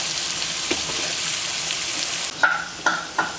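Snake gourd frying in spice paste gives a steady, fairly loud sizzle, with a few sharp stirring scrapes near the end and no talking.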